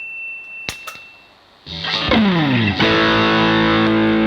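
A few clicks, then a loud, heavily distorted Soloking MT1 electric guitar through a distortion pedal blasts in with sustained gritty chords and sliding notes.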